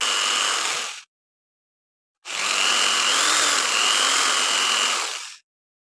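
Two bursts of rough, hissing abrasion, a short one then a longer steady stretch, as coarse sandpaper is worked hard against a flute during crowning, up close.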